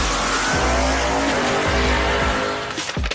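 A race car launches hard on a drag strip coated with sticky resin over the asphalt, its engine roaring loud and steady with rising revs and a burst of tire noise near the end.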